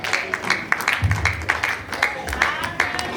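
A church congregation applauds during a wedding ceremony, with steady clapping throughout and a voice speaking over it.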